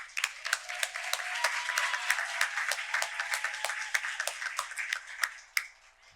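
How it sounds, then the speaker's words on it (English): Summit audience applauding a speaker named Patty, sharp individual claps standing out over a thinner, steady patter that fades toward the end. "Another round of applause for Patty."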